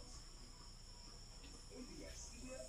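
Faint, thin chirping of crickets against a quiet background hiss, soft and continuous with small scattered trills toward the end.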